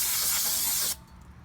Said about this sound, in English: we're going to spray this down to one more clean with brake cleaner